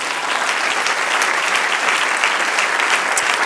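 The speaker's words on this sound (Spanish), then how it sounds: "Denle un aplauso, Señor." A church congregation breaks into loud, sustained applause, a dense continuous roar of clapping that stays strong and level throughout without letting up.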